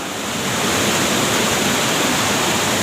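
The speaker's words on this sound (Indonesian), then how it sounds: "Ini airnya terus ke bawah mengalir jauh sekali." A waterfall in a village setting pours steadily, a loud, continuous broadband roar of falling water with no voices over it.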